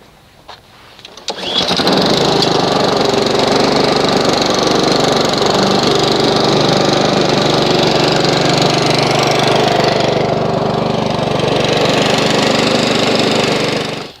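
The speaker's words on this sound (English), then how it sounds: "Run the engine up, get it up to temperature." A Honda HRX217HYA lawn mower engine starts up and then runs at a steady, loud, close drone for over ten seconds while warming up, the pitch shifting slightly near the end.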